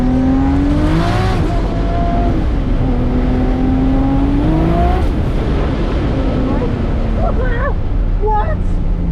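A drift car on Mickey Thompson tires revs and roars loudly and continuously at a regional final event, engine pitch rising and falling under excited spectator talk and crowd noise.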